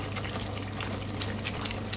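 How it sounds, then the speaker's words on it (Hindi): Water is poured into spice masala frying in a pan for an egg curry, giving a steady bright hiss and sizzle that lasts about two seconds. "2-3 टेबलस्पून पानी डालूंगी ताकि मसाले जले नहीं।"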